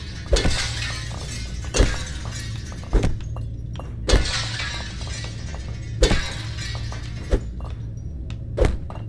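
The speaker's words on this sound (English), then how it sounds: "I have to just batter the glass around me" Glass is smashed repeatedly in the Fallout London game, with sharp shattering crashes at regular intervals, each followed by a spray of tinkling shards and a dull thud, loud and close, no talking.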